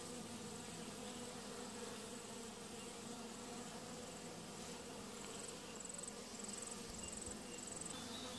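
Honeybees buzzing around an open hive during hive work, a steady, close, continuous hum of many insects with no talk.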